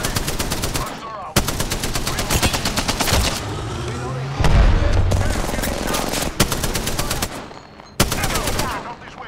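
Rapid automatic gunfire in a battle royale video game during a fight with the last squad, loud sustained bursts broken by short pauses, with talk and game sounds underneath.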